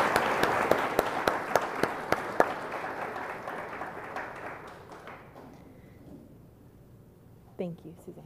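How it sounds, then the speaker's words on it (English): Applause from a summit audience at a climate change conference hall, starting with sharp scattered claps that thin and fade over several seconds, followed by a brief moment of speech near the end. "we'll give a round of applause"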